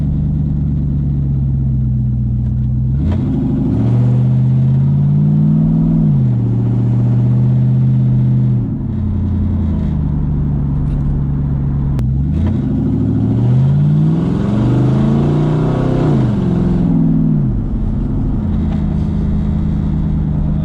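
An LS V8-swapped Jaguar XJ-S British luxury car revs hard while driving, its loud, close engine note climbing and falling through several surges with no voices over it.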